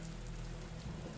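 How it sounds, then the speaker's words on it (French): Steady, dense rain pours down all around, a continuous close hiss of drops with no voices. "Tout mon environnement est couvert par le bruit de la pluie."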